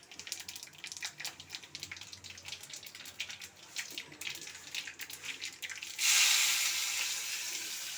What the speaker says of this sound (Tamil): கடுகு, உளுத்தம்பருப்பு போட்டுடுறோம். அதுலேயே கொஞ்சம் மிளகு, சீரகம் போடுறோம். அது பொரிஞ்சு வர சொல்ல